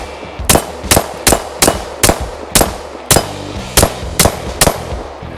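A gun fitted with a CAA MCK micro conversion kit fires about a dozen sharp, loud shots in a steady, evenly spaced rhythm, each a crisp crack with a short ringing tail outdoors.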